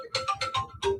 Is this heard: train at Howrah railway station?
no